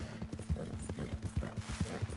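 Rhythmic horse hoofbeats in the video game Red Dead Redemption 2 clop at a steady trot, soft and somewhat distant, with a faint low hum running underneath.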